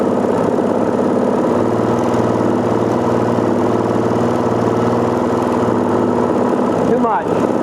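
A Gen II four-stroke engine runs at a steady, close idle during carburetor tuning, a constant buzzing drone with a brief shift in pitch near the end.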